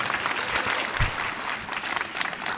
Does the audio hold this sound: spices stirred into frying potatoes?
no